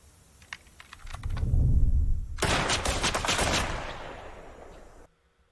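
Rapid bursts of gunfire in a slasher film scene crackle loudly in quick succession over a rumbling low swell, then cut off abruptly.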